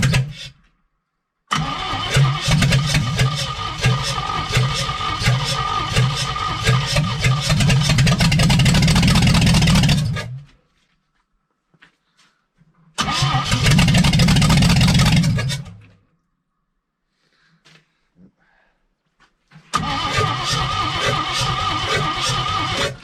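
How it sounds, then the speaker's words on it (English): A 1964 Chevy K20 engine on a temporary fuel tank cranks and fires in three loud bursts, rough running sounds cutting off abruptly between attempts with quiet gaps in between. "So let's crank it over and see if it'll go."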